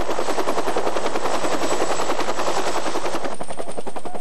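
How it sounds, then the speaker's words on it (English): A Canadian Forces helicopter's rotor runs up close and loud, a rapid steady chopping pulse of blade beats with a high turbine whine above it, unbroken from start to end. "The helicopter's rotor can produce very strong gusts of wind."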